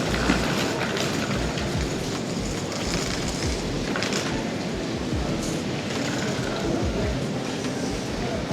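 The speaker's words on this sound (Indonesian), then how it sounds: "Di banyak banget kereta yang lewat di sini." Trains run through a busy multi-platform station in Berlin, producing a loud, continuous rumble and clatter on the rails that lasts throughout with no pauses.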